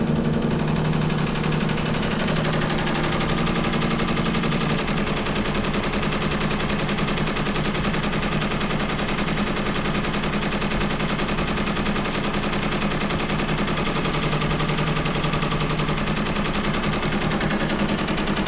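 A Ricoma MT2002-8S embroidery machine stitches designs onto the backs of two hoodies, a loud, steady, rapid mechanical clatter of needle strokes running without pause throughout, with no talk.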